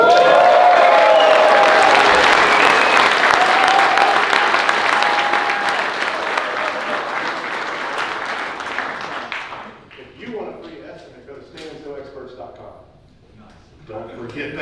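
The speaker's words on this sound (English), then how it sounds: "Give us a round of applause." Loud audience applause at a staining contractors' conference fills the room for nearly ten seconds, then fades into scattered claps and crowd murmur with voices talking over it.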